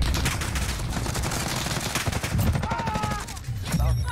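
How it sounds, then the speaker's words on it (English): Rapid automatic gunfire rattles nonstop in the video game Call of Duty: Warzone, dense bursts of shots layered with distant fire, loud and continuous for the whole stretch. "Oh shit, I'm getting shot at."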